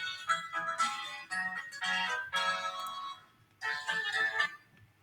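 A phone ringtone plays a bright, repeating electronic melody in bursts with short gaps between them. It sounds fairly close and stands alone over quiet background during an online trading session.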